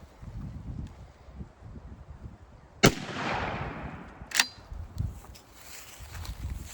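A shotgun fires a 3.5-inch Nitro Turkey shell outdoors, one loud sharp blast with a rolling echo, followed by a second sharp report and faint wind, with no talk.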